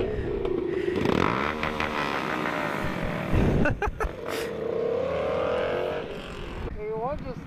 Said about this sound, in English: For little bikes, yo, we loud as hell.